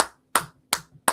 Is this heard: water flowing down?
no